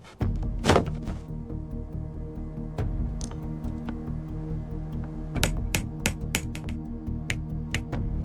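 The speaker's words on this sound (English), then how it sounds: "A tedious process of pulling nails and prying boards." Nails are pulled and wooden slats pried off old pallets by hand, giving a series of sharp creaks, knocks and metallic clinks at irregular intervals, close and fairly loud over a steady low hum.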